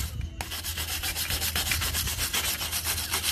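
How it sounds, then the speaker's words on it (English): A steel wire brush scrubs surface rust off a brake caliper in steady, rapid back-and-forth strokes, a close, harsh, continuous rasping with no talk. "So what we're going to do first is get our steel brush, and we're going to give it a nice good scrubbing."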